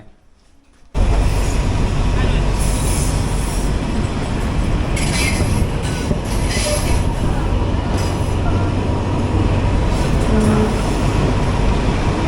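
A train rides along the Death Railway near Kanchanaburi, Thailand. After a second of quiet, a loud, close, continuous rumble of wheels and carriages takes over, with occasional squeals and rattles.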